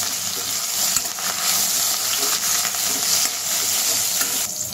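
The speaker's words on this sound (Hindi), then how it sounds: "इसके बाद हमने डाला है हरी मिर्च और कड़ी पत्ता" Green chillies and curry leaves stirred in hot oil for poha sizzle steadily and loudly up close, with a dense, continuous crackle and occasional soft scrapes of the spoon throughout.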